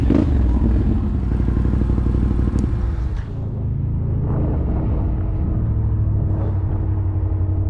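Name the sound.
Can-Am Renegade ATV engine running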